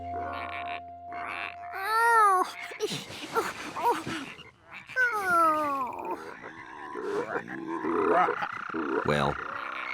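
Frogs croaking in a cartoon, with rising, wobbling croaks and grunting calls trading back and forth over a light music bed. Loud and close, with no clear speech.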